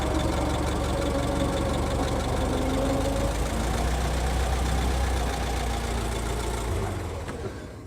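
A 1925 Ford Model T four-cylinder engine running while driving in top gear, a steady close mechanical drone with a knocking, idling-like rumble that holds evenly and eases off slightly near the end.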